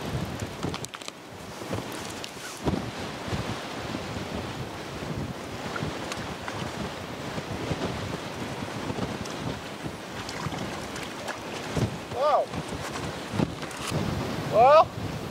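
Strong gusts buffet the microphone outdoors at Antero Reservoir while ice fishing, a rough roaring rush that swells and fades with brief louder blasts.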